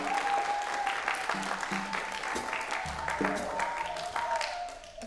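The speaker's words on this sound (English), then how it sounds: "Y'all gotta give him bigger applause and see what he does." Clapping from a small audience at a jazz and blues camp masterclass greets bassist John Fremgen, steady applause mixed with talking and brief instrument notes, tapering off toward the end.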